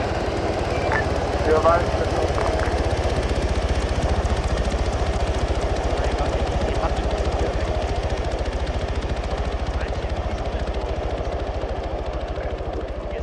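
Steady rhythmic thudding of a helicopter's rotor and engine in a video game during a medevac flight back to base, loud and continuous, with players talking over it.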